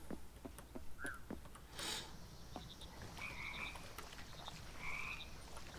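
Frogs croaking in the video game Mudborne, scattered short croaks and chirps popping up over a low ambient background, with no talking.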